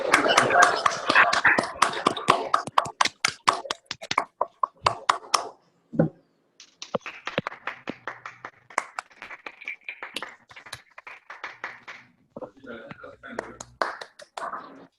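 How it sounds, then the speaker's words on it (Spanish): Scattered hand claps from an audience honouring doctors at an ophthalmology cataract and glaucoma session, sharp and uneven, thinning out midway before a lighter second burst of clapping returns. "Y un aplauso para los doctores, por favor."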